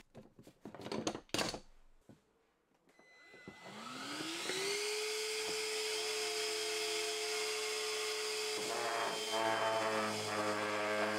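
A few knocks and clatters, then a power sander whines up and runs steadily at a loud, constant pitch, sanding a wooden phone speaker outdoors in freezing weather.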